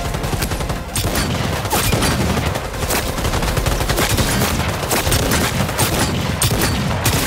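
Gunfire from combat in the Cyberpunk 2077 video game: a loud, dense, nonstop barrage of rapid automatic shots and bursts with no pauses.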